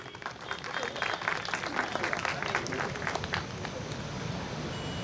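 An audience at a Buddhist community gathering in Gandhinagar claps for an English teacher. The applause is steady and dense and holds at a fairly even level for several seconds.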